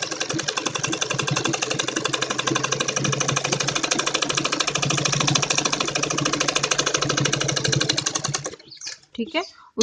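A sewing machine runs a fast, steady stitch along net cloth for a Patiala salwar, close and continuous for about eight seconds before stopping, with a voice talking over it.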